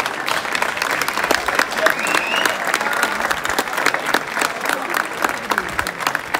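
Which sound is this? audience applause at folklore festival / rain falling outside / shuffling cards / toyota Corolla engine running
audience applause at folklore festival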